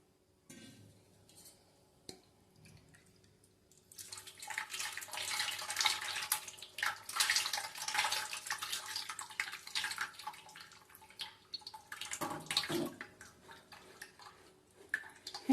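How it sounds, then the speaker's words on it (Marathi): Water is poured into a sorghum (jowar) flour mixture being strained in a kitchen, a soft trickling and splashing that starts after a few quiet seconds, runs steadily, pauses briefly, then resumes. "याच्यात किंचित पाणी घालतेय मी."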